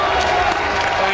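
Crowd at the 2007 NFL draft applauding and booing, a dense, loud wash of clapping and crowd noise filling the whole brief moment.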